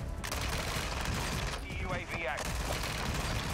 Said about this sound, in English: I hear shots over here.